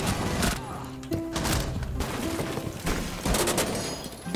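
Rapid gunfire from the video game Shadow Legacy, with loud bursts of shots and impacts repeating throughout alongside busy in-game action, with faint talk in the background.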